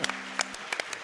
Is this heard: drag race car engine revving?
no